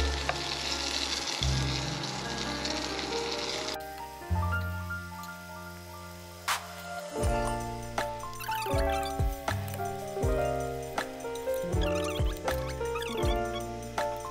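Korean pollock and zucchini jeon fry in a pan with a steady sizzle and crackle, interrupted by clinks and scraping as pieces are turned and moved about.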